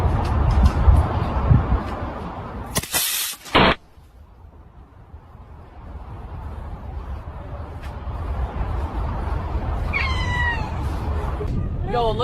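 Several cats meow in a computer-generated scene, with short bright cries near the end over a steady background hubbub of crowd-like noise and a brief loud burst early on.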